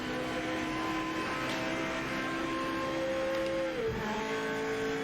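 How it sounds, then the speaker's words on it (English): An old Toyota Supra GT500 race car in the Project Motor Racing game holds a loud, sustained engine drone with steady harmonic tones. Near the end it dips briefly, as if on a downshift, then picks back up. "It does sound amazing as well, the Toyota Supra GTC."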